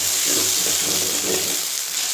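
Brinjal and tomato pieces frying in a pan for a vegetable curry, a loud, close, steady sizzle with faint stirring underneath and no speech.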